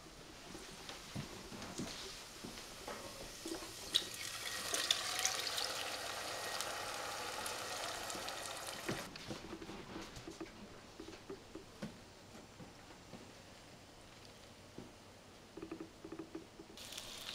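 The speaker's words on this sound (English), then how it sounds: "Now the sauce start to boil." Pot of tomato sauce with plum tomatoes, garlic, onion and hot pepper coming to a boil, a soft steady patter of bubbling and faint crackle close by, with clatter near the start and no talk.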